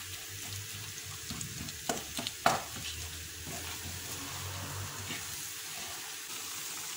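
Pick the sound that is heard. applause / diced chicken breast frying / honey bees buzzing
diced chicken breast frying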